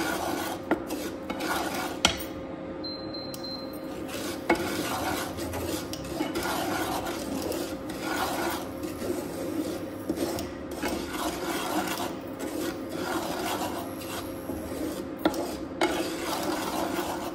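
Semolina lightly fried and stirred in a pan on an induction cooktop for sujir halua, a continuous dry scraping and rasping of a spoon against the pan with soft periodic knocks.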